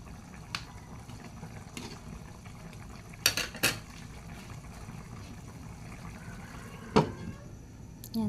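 A utensil scrapes and clinks against a pot as chicken with carrots and potatoes simmers, a few sharp metallic knocks over a soft steady bubbling.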